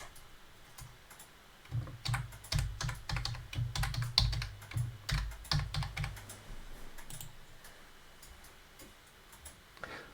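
A password is typed on a computer keyboard: quiet, close, rapid clicking keystrokes in an uneven run of bursts, with no voices.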